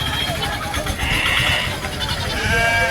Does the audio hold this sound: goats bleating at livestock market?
yes